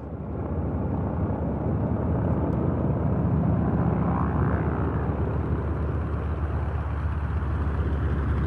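A Bristol Blenheim, an RAF bomber type restored to fly after a landing incident, passes at the Duxford air show with a loud, steady propeller-engine drone that holds throughout with no voices.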